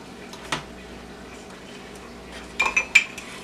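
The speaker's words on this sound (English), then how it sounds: "we're going to scrape the fat off the backside" A knife or spoon scraping fat from the back of semi-frozen chicken thigh skin, with a faint single scrape followed by a quick cluster of clinking scrapes near the end over quiet room noise.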